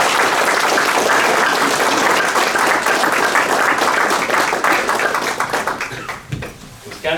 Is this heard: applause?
yes